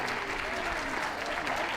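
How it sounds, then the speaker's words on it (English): A brief burst of steady clapping from the audience at the Southern Counties 2013 dog show, applauding the dogs and the judge after the Terrier group judging, dense and continuous. "Nice round of applause for the dogs and the judge"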